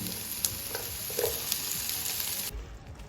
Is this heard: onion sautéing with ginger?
yes